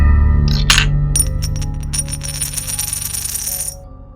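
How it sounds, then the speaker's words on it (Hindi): A small metal object such as a coin or key drops and clinks sharply, leaving a bright ringing tone that fades slowly over several seconds above a low steady hum. "जैसे कोई सिक्का या चाबी गिरी हो।"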